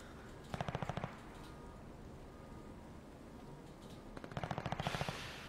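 Two short bursts of rapid automatic gunfire in a ranked video game match, crisp and fairly close, separated by a few seconds of quiet ambient hiss, with no voices.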